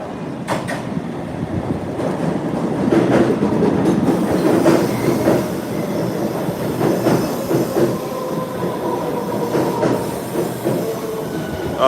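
A Bombardier light-rail train on the Green Line passing close by, a loud continuous rumble with rhythmic wheel clatter and faint squeal, no talking.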